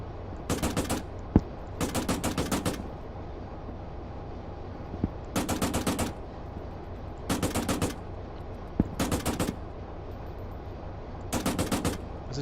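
Rapid automatic gunfire in the Arma 3 military shooter, sharp sustained bursts of roughly a second each repeating at irregular intervals, loud and close, with a few single shots between them.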